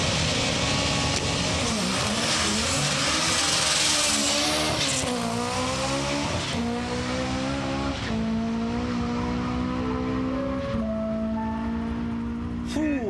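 Nissan DR30 Skyline drag cars at a drag strip, engines droning loud with rising and falling revs through gear changes, a steady racing roar with faint tire noise.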